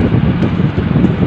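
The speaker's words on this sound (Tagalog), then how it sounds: "Malakas yung hangin" Strong wind buffeting the microphone while biking along Manila Bay near Baywalk, a loud continuous low roar with gusty fluctuations and no talking.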